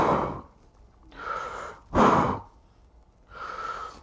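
A voice imitates breathing through a scuba regulator underwater: slow alternating inhales and hissing exhales, close to the mic, in about four separate breaths with no talking.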